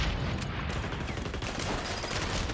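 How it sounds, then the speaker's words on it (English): Dense burst of rapid gunfire from a first-person shooter game with a two-shot Desert Eagle pistol, loud and continuous with overlapping shots throughout. "Gunfire in this game reminds me of the decoy grenades from Call of Duty."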